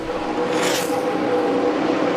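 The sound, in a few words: Jeff Gordon's NASCAR race car on final lap at Michigan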